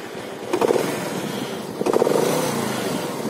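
A Zodiac motorcycle engine rumbles steadily at idle, with two sharp throttle blips that rev it up briefly before it settles back down.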